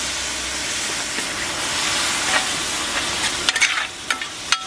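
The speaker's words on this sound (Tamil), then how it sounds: "நல்லா அந்த மசாலாவை அந்த எண்ணெயிலே நல்லா ஃப்ரை பண்ணும்போது அந்த பச்சை வாசனை எல்லாம் போயிடும்" Masala frying in oil for a beef bone curry, a steady close sizzling hiss with a few brief stirring clinks near the end.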